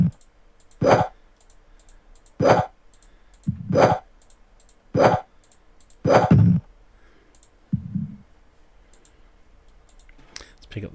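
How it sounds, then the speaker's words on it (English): Creatures in the video game Dungeon Master move about in a series of short, separate bursts of scuffling and clicking noise, about six evenly spaced, fairly close, with quiet gaps between them and no talking. "I can hear something else shuffling around in here, actually."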